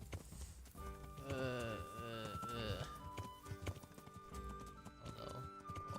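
A horse in the video game Kingdom Come: Deliverance struggles, with hoof clatter, snorts and a whinny over game music, while someone talks over it.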